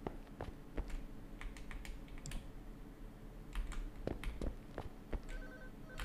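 A telephone rings somewhere in a video game, a faint repeating electronic tone heard among scattered keyboard and mouse clicks while the player searches for it.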